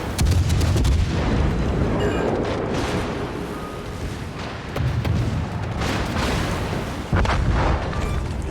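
Torpedo hits in the World of Warships naval battle game, a series of loud, deep booming explosions rolling over a dense, continuous roar of battle noise, with fresh blasts near the start, midway and toward the end.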